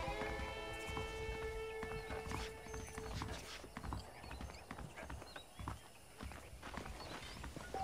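Horse hooves clip-clop at a steady walking pace in Red Dead Redemption, close and continuous, with a horse briefly whinnying over game ambience and a faint musical tone early on.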